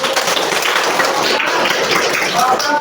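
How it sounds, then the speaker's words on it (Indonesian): Classroom of students clapping hands together during a lesson, a short burst of brisk, fairly close applause with some voices mixed in. "Tepuk tangan dulu dong."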